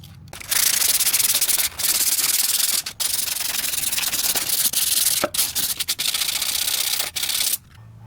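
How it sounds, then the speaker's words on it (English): Sandpaper rubbed by hand over a K24 engine valve cover, loud close scraping strokes in long steady runs broken by brief pauses. "I'll be using the sandpaper just to make it a little bit more smoother, so when the paint comes on everything will be even."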